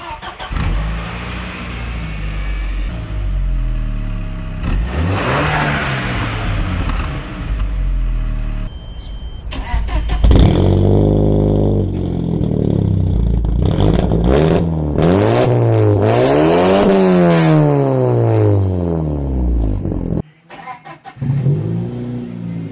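An Audi fitted with a homemade exhaust runs with its valves closed, idling with a deep drone and then revving up in several rising and falling sweeps, loud and close, with a brief drop near the end.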